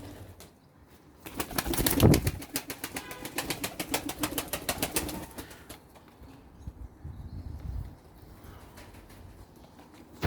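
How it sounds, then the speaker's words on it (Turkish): Pigeons coo and rustle in a busy coop, with a burst of wing flapping early on and scattered soft clicks throughout. "Bir kümes kuş."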